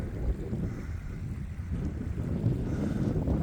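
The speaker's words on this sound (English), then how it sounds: "the wind's getting very cold" Cold wind gusts steadily across a mountainside in Yellowstone National Park, Wyoming, a loud continuous rumble buffeting the microphone with no voices.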